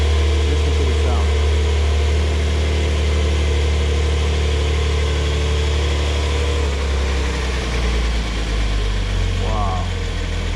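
Porsche 911 4S engine idling, a steady low rumble with a constant mechanical hum, close and loud throughout, with a voice speaking over it.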